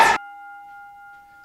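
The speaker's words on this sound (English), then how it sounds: "And that's the opening bell." A boxing opening bell gives one sharp, bright strike that rings on as a steady, pure metallic tone and fades slowly, standing alone without voices.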